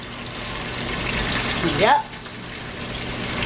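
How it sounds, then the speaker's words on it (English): Water splashes into a jar as it is rinsed during home cooking, a short rising gurgle of filling, with a speaker talking briefly nearby. "Put a little water in my jar"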